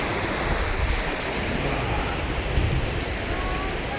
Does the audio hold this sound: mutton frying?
no